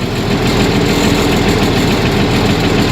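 International Harvester 1586 tractor diesel running after a cold start following two months of sitting, a loud, close, rough rhythmic engine clatter that holds steady throughout.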